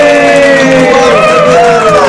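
A studio audience at a live chat show for a band cheers and applauds loudly, a dense, continuous crowd roar with raised voices running through the whole moment.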